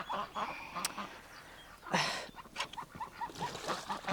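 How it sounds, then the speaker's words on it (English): Farm ducks quacking in a run of short nasal calls, a few close and loud with others quieter behind, repeating in an uneven rhythm with no talking. "so there's my ducks"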